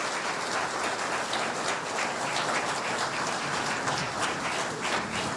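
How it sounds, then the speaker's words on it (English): An audience at a cabinet ministers' swearing-in ceremony applauds steadily, a dense hiss of many hands clapping at a moderate, even level without a break. "Please give a round of applause to our"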